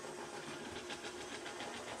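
A small, light and weak model railway engine runs with a faint, steady whirring rumble, low in level and continuous throughout, with no voices.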